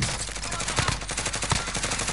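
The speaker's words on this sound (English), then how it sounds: "I shot him through the wall a few times" Rapid bursts of gunfire fire through a wall in a multiplayer video game, a dense stuttering rattle of shots with a few louder cracks standing out, close and continuous.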